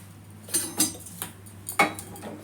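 A metal kadai set down on a home stove while dry makhana waits nearby, heard as several close, clanking knocks and scrapes of metal on the burner, spaced irregularly with no talking.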